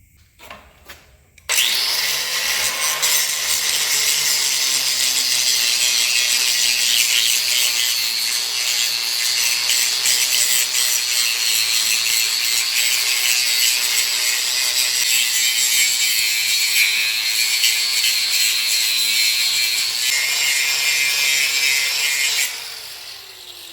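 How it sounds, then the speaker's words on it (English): A power grinder works steadily on metal during a chisel plow repair, a loud, continuous abrasive whine and rasp that starts abruptly and holds for about twenty seconds before tapering off, close and unaccompanied by talk. "A little grinding and it'll be pretty smooth"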